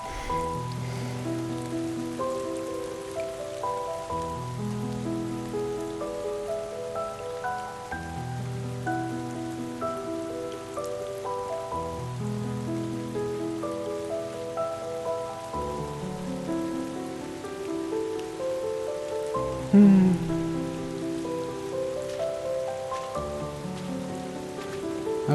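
Steady rain patters throughout a scene in the video game Bottle: Pilgrim Redux, a soft continuous hiss beneath slow, sustained musical tones, with one brief louder moment near the end.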